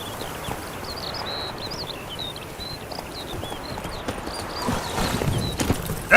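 Roach the horse clip-clopping along in The Witcher 3: Wild Hunt, a steady run of hoofbeats at moderate distance under a bed of chirping birds and ambient outdoor noise.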